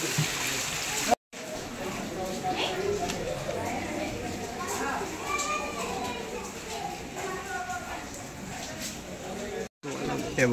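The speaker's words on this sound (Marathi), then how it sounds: "हे बघा धबधबा." A monsoon-fed waterfall on a hill climb near Ekvira, with rainwater streaming over steps, makes a steady broadband rushing roar throughout while people talk over it nearby.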